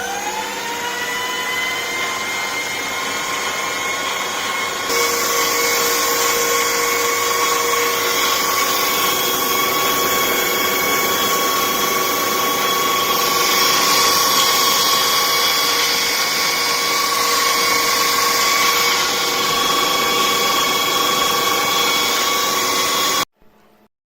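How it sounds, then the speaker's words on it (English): A drill machine's motor runs steadily at high speed, driving a small generator, a loud, even whine with a sustained hum that holds for over twenty seconds before cutting off abruptly. "I'm going to run the motor to run the drill machine"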